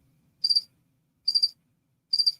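Crickets chirp in a sound effect: three short, evenly spaced trilled bursts that stand out clearly against near silence.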